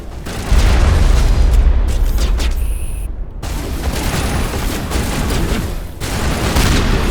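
Heavy gunfire and booming blasts in Mass Effect 1 video game, sustained loud bursts over several seconds, briefly dropping out mid-way before the barrage resumes.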